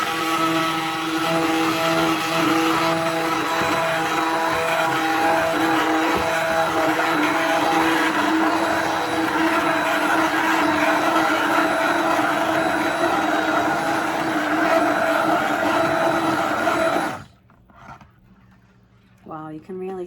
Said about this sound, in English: This will be a little noisy while we mix the oils together.